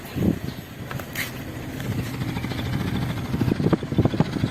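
An Isuzu Trooper carburetor engine idles nearby with a low, uneven exhaust rumble and irregular puffs, loud and close.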